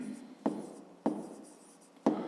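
Pen writing out a math solution on paper, soft scratchy strokes with three sharp taps as the pen touches down, quiet and close with no talking.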